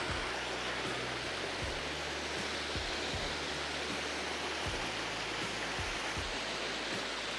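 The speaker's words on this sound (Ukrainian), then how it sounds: "Зараз він не дуже такий потужний, буває набагато більший. Це водоспад." A small waterfall on the Kamianka river, running low, gives a steady broadband rush of falling water, continuous and fairly loud with no voices over it.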